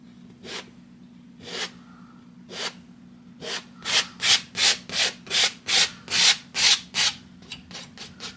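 A painting knife scrapes paint across a 24x36 canvas to form a mountain, first in a few slow separate strokes, then a quick steady run of about a dozen rhythmic rasping swipes, close and clear with no talking.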